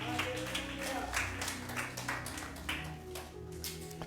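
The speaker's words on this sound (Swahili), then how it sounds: "Mpigie Yesu makofi mazuri" A church congregation claps for Jesus during a Swahili service, a steady run of hand claps mixed with loud music throughout.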